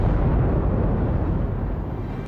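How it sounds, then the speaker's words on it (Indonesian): Rumbling explosion effect from an action film in which a bazooka blast brings down a building, heard as a loud, sustained low roar of blast and debris that fills the whole moment without easing. "Saat itulah ledakan terjadi."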